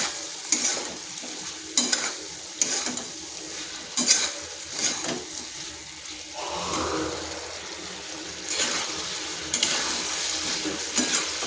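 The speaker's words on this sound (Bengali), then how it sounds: "দিয়ে দিচ্ছি আলু পটলগুলো। এরপর আলু আর পটলটা বেশ কিছুক্ষণ সময় ধরে কিন্তু কষিয়ে নিতে হবে।" Potatoes and pointed gourd being fried in a wok sizzle steadily while a spatula scrapes and knocks against the metal in repeated bursts, close and prominent, with no one speaking.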